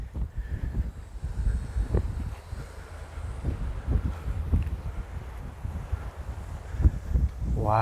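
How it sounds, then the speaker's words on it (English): Gusty wind blowing outdoors near a coastal Florida shoreline in Sebastian, buffeting the microphone in uneven bursts with low rumbling swells and no clear talk. "it's a little windy"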